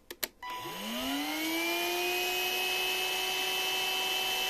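A cordless battery vacuum cleaner with a six-cell 22.2 V pack of 18650 cells and its nozzle removed switches on after a couple of clicks, its motor whining up in pitch and then holding a steady, loud high whine.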